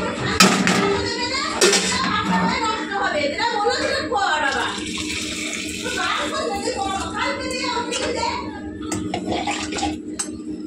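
Boiling hot water poured into a pot of mutton, a steady close splashing and gurgling stream with a few clanks of pot or vessel, while people talk over it throughout.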